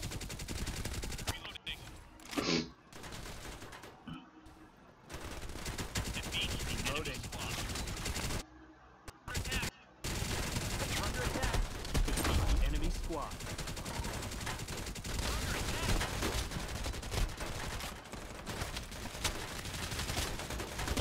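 Dense, continuous gunfire from the battle royale shooter Farlight 84, sustained bursts running nearly the whole time with a couple of brief pauses, loud and close, with a voice talking over parts of it.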